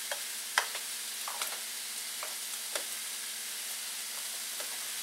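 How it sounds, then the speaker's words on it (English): Ground turkey casserole seasoned with seasoning salt being stirred in a hot pan, soft scraping strokes over a steady sizzle, close and fairly quiet with no talking. "And then I'm just going to stir this up."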